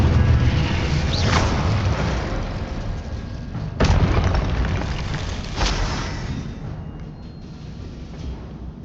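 Incendio fire spell cast during a boss fight in the video game Hogwarts Legacy: sharp fiery bursts flare up amid a dense, rumbling backdrop of combat effects, with a few repeated impacts spread across the stretch.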